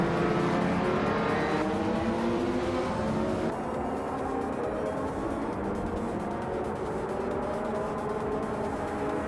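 Race cars pull hard off the starting line in a racing game, engines revving loudly and steadily with rising pitch, a dense continuous roar close by and no talk.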